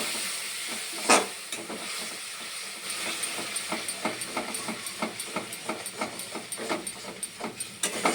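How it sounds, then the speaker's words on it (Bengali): Chili and turmeric powder paste hissing and sizzling in a hot pan, with a steady, rhythmic scrape of a spatula stirring it, close and moderately loud with no talking. "আমি লঙ্কা গুঁড়ো আর হলুদ গুঁড়োটা জলে মিশিয়ে রেখেছিলাম, এটা দিয়ে দিলাম, দিয়ে ভালো করে কষবো।"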